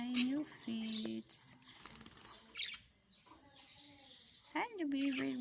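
Lovebirds chirping and squawking close by in the early morning, several sharp, rising calls in quick bursts, with soft voices in the background.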